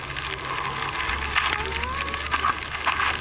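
A campfire burning down in the video game Survival Craft 2, a steady soft crackle and hiss running throughout, with no voices.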